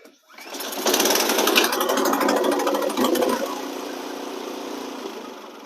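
An Ariens snowblower engine is pull-started with the rope, catching after a brief tug and settling into a loud, steady mid-pitched running drone that continues close by for several seconds with no talking.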